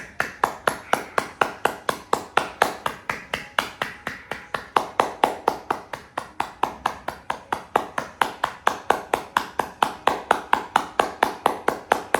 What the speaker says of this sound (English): Breathe out, clap and hold as long as you can